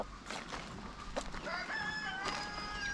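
A Brahma-cross rooster crows loudly nearby, its long rising call stretching across the middle of the clip, with other hens clucking faintly in the background.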